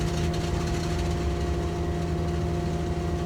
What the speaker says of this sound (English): Engine 1 starter engage.